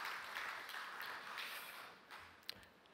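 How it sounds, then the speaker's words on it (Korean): A church congregation applauds, a soft, steady wash of many hands clapping heard from a distance, with a faint sharp tap near the end. "하나님께 박수로 영광 돌리겠습니다"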